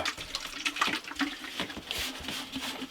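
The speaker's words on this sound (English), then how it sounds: "rinse that out real quick" Faint running water as something is rinsed out at an off-grid trailer in Alaska, a soft splashing trickle with small irregular bursts, quiet and close, with no talk.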